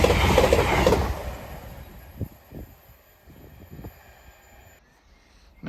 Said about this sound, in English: Next pass through is cross country service off to Edinburgh from Birmingham.